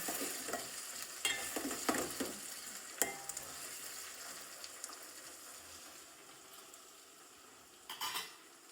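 Pulao rice being roasted and stirred in a pan, with soft sizzling and frying under repeated scraping strokes of a spoon, several sharper clinks at irregular moments, fairly quiet and close with no voices.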